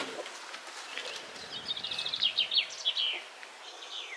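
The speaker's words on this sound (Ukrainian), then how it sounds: "Там, до речі, пташечка на мене дивиться." Small bird calling outdoors in a garden in May, a run of quick high chirps and trills at moderate distance over a quiet background.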